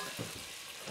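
Sausages sizzle and fry in a pan, a dense, steady crackling hiss close up, with a few soft stirring knocks underneath.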